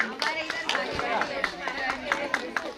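An audience claps at the Vadhan family's Ambe Mataji flag (dhaja) festival in Adhoi. The claps come as an even, rhythmic stream of sharp hand claps, with a voice talking over them.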